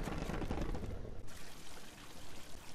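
Water pouring in the video game Candle, a loud splashing gush up front that cuts off abruptly, leaving a softer fizzing trickle behind.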